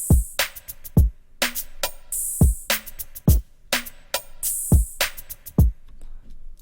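A drum pattern programmed in FL Studio plays alone: punchy kicks, bright crisp hats and snares in a steady syncopated loop, with a quick drum roll fill.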